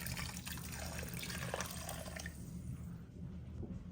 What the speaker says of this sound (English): I'm just gonna add some more water to the pot.